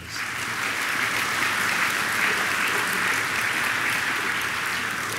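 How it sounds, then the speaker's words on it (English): A school assembly crowd gives a sustained round of applause, dense steady clapping filling the hall at even loudness from start to finish with no voices standing out. "Would you give them a round of applause?"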